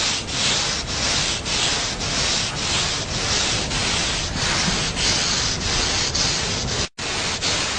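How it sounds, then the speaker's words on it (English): Steady back-and-forth strokes of 80 grit sandpaper across a DeLorean DMC-12 stainless steel body panel, a loud, even rhythmic rasp repeating about twice per second, with one brief break near the end. "we take 80 grit sandpaper, and we're just kind of doing a basic, nice even stroke across the whole panel"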